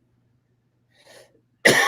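A single sharp, loud cough bursts out close by after a faint shuffle of sound, standing alone with no talk.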